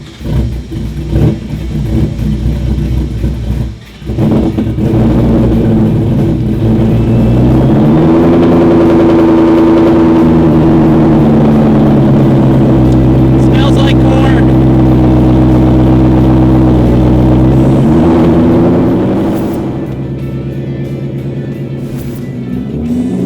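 A Ford 5.2 L Coyote V8 running full E85 with a VMP fuel system fires up for the first time, then holds a loud, deep rumbling idle and revs up through a sustained rise before settling back down, close by.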